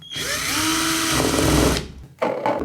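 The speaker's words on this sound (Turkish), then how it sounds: "Şimdi deliğimi deliyorum." An electric drill bores a hole in a screw cap during gear maintenance on a Beko Maxi BKK 2262 chopper, a loud steady whine lasting nearly two seconds, then a brief stop and a short second burst.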